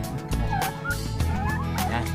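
Turkeys gobble over and over in a crowded rural pen of about twenty birds, the loud rippling calls overlapping close by with no talking.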